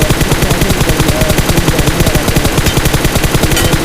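Rapid automatic gunfire from the Free Fire mobile battle game, a dense, loud, continuous rattle of shots with no pauses and no talk.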